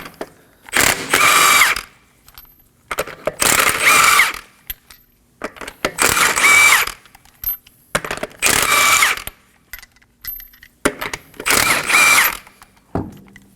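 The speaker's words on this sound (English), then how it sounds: "Using a 21mm socket, we're going to remove the wheel." An impact gun with a 21mm socket spins off the lug nuts on a Kia wheel in five loud, separate bursts of whirring and ratcheting, each a second or two long, with quiet pauses between them.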